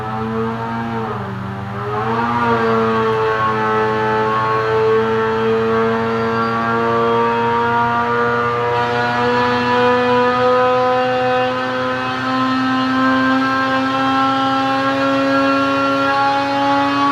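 A 2018 Polaris Axys 800 snowmobile engine with Bikeman Stage 3 modifications, loud and near on a dyno, dips briefly, then climbs in a steady sustained rev with rising pitch for many seconds.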